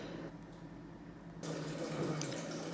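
Tap water runs into a pot sitting in a kitchen sink, a steady rushing flow that grows louder and brighter partway through, close and alone without voices.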